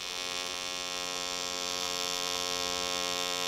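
A steady, loud, buzzing hum from a TIG welding arc running on thick-to-thin aluminum, holding an even drone throughout with no speech.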